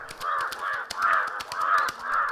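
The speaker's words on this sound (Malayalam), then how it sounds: "2 കാക്കകൾ വഴക്കുണ്ടാക്കുന്നത് കാബിൽ ശ്രദ്ധിച്ചു" Two crows cawing harshly at each other in a fight, a rapid run of loud, close, repeated caws with no other sounds.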